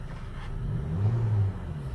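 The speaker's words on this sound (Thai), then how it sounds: "ได้ยินเสียงท่ออยู่นะครับ" A black Honda Civic FD with an aftermarket exhaust idles with a low, steady rumble, a deeper throb swelling briefly in the middle.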